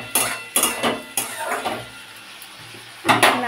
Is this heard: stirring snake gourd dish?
yes